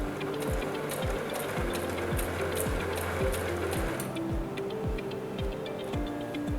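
A Brother sewing machine stitches a button onto fabric in a fast, even run of mechanical ticks and whirs, close and continuous, with no voices.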